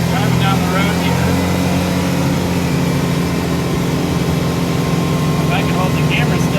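A Can-Am X3 XRS Turbo RR side-by-side drives down a road, its engine droning steadily and loudly throughout with road and wind rumble, while someone talks over it.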